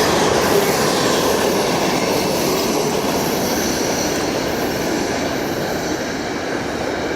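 Long freight train M647 rolling southbound at the south end of Latham in Hopkinsville, Kentucky, a steady loud rumble of cars and wheels with faint squeal, continuous throughout.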